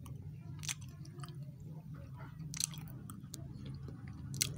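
Someone chews a crunchy Delfi Treasures Cookies N' Cream chocolate biscuit up close, giving soft repeated crunches and mouth sounds with a few sharper bites, without speech.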